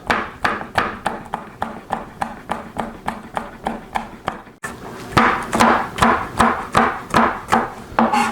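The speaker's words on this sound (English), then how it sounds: "I just want to take the ends off, and then cut this piece in half, and then I just want to make about 1/4 inch strips" A knife chops a sweet potato into strips on a wooden board, striking crisply and loudly in a steady rhythm. There is a brief pause, then faster, heavier cuts continue evenly.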